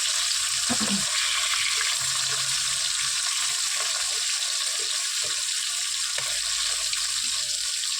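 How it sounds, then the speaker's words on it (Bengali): Large hilsa fish frying in a pan gives a steady, bright, even sizzle close by, with a few soft knocks from the pan in the background. "এবার দেখো মাছটা ভাজা হয়ে যাচ্ছে"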